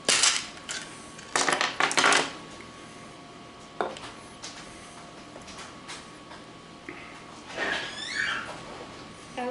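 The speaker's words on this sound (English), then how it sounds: "I need the dice" Dice are handled and rolled onto a hard kitchen surface, with sharp clattering knocks early on and a few scattered lighter taps and rattles afterward, close by.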